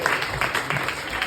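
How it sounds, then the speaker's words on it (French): Applause from an audience at a comedy show in Luxembourg, a steady dense clapping with regular rhythmic peaks, heard under a speaking voice. "Un applaudissement pour Eliane, s'il vous plaît."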